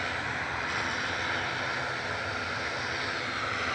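An Aer Lingus Regional ATR 72-600 turboprop bound for Belfast from Manchester Airport gives off a steady, moderately loud engine drone and hiss, unbroken and free of talk.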